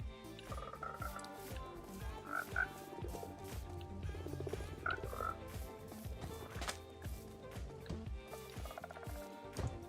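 Frogs croak repeatedly in a video game adventure, a dense chorus of overlapping calls over steady game music, loud and close throughout with no talking.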